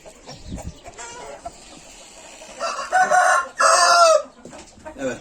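Chickens cluck softly, then an Indian breed rooster crows loudly twice in a row, close by.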